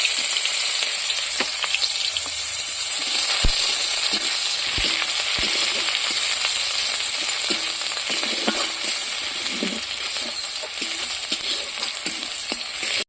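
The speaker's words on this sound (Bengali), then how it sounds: "প্রথম কোচানো পেঁয়াজ দিচ্ছি" Sliced onions frying in hot oil in a home kitchen, a steady loud sizzle with occasional spoon stirs and soft pops throughout.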